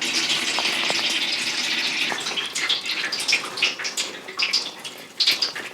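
Water pours into root bark pulp in a basin to dilute it, a steady close splashing gush that breaks into uneven bubbling and sloshing toward the end, with no talk.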